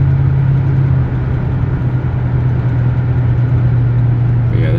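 A 1972 Cadillac Eldorado with a 500 cubic inch V8 cruises along, its engine giving a loud, steady, low hum from inside the car, smooth and unbroken, with no speech.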